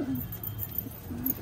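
A black Chandna pigeon gives two soft, close coos, a low throaty call near the start and another near the end, with faint background noise between.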